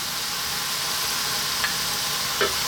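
Garlic frying in a pan for an Ethiopian dish: a steady broadband sizzle runs throughout, with a couple of brief stirring clicks and no talking.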